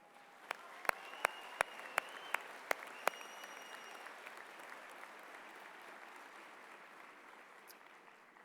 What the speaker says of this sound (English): So it's probably a good idea to give them a really nice applause here.